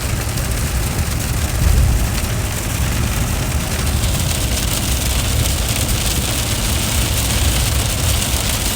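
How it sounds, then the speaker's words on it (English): Heavy rain from a severe storm pounds on a moving car, a dense, steady roar close around the cabin with engine and road rumble underneath, with no voices. "Very heavy rain falling now."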